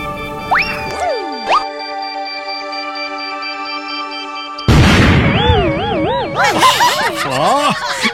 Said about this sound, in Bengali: কোন আহাম্মক এই বোমাটা ফাটালো রে?